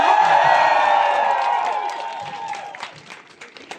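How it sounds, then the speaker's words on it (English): A crowd at a trans rights protest in Leicester cheers loudly for an art teacher, with bright shouts and whoops that gradually fade into scattered claps and voices. "Big cheer for Miss Fern!"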